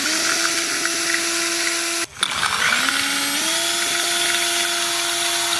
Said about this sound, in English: I'm gonna have to drill this one out